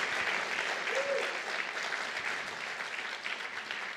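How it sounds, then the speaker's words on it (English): An audience at a motivational church talk claps hands continuously for several seconds, a dense, even patter of many hands at moderate volume with no break. "Clap your hands like you want some of this"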